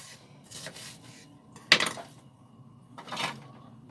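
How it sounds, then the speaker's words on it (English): Vegetables for a pork chilli soup are coarsely chopped with a knife on a board, giving a few scattered, fairly quiet chops and scrapes, one sharper than the rest. "So I'm going to just coarsely chop the vegetables"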